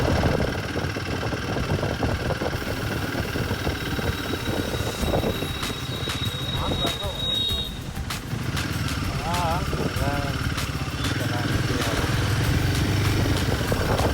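A Royal Enfield Himalayan 450 engine while riding in third gear around 2000 rpm at city speed, a steady low rumble throughout with wind noise, close and loud, as a rider talks over it.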